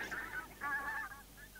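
Geese honk as a sound effect in a 1990 children's story recording, where ducks and geese eat a picnic and chase the mice away. Several bright, overlapping honks come in two bursts, then softer calls close by.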